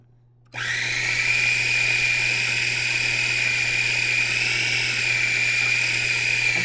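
A blender on puree speed whirs loudly and steadily, pureeing a sauce with olive oil; the motor kicks in after a brief quiet moment and runs continuously at an even pitch.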